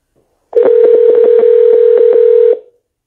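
A steady telephone dial tone sounds for about two seconds while a call is placed, with a series of short clicks breaking in at uneven intervals, loud and close, with no talking.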